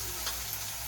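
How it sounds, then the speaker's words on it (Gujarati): Masala paste frying in oil in a pan while it dries and releases its oil, a soft, steady hiss of sizzling, faint and brief, with no voices. "તો આ મસાલો થોડોક સકવાઈ ગયો છે, તેલ છૂટું કરવા માંડ્યું છે।"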